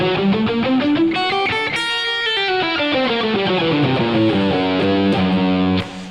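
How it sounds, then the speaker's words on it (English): A distorted electric guitar plays a fast altered-scale run up and down over a dominant chord, continuous and loud, with no voice, fading at the very end. "You can play an altered scale based on the root of this dominant chord"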